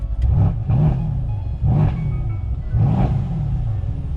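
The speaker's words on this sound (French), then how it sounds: "si je mets 2-3 petits coups de gaz avec les clapets, ça fait pas non plus un bruit de fou" A Mercedes-AMG C63 S (510 hp) engine revs in four short throttle blips with exhaust valves open, each rising and falling back to a deep idle rumble, close and fairly loud.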